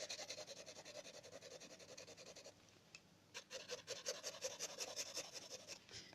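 A pencil's shading is wiped and rubbed across paper while hair is drawn, quiet continuous rhythmic scratchy strokes with a short lighter pause partway through.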